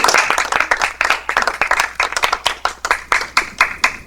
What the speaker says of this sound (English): And so we can give a round of applause to Todd wherever he may be.